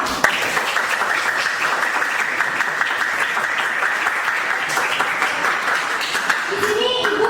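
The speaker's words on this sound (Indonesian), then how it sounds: "beri tepuk tangan dulu untuk diri kita" Sustained applause from a classroom of students, steady and dense for several seconds, with voices mixed in beneath the clapping.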